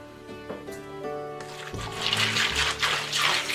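Milk pours into a bowl of Fruit Loops cereal, a rising splashing gurgle that builds after a few faint clinks and continues steadily to the end, close by.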